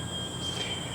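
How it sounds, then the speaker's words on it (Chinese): Crickets and other insects chirp steadily outdoors beside a walking path, a faint continuous high-pitched buzz with no talking. "大家听到我后面的这个鸟叫声、虫叫声"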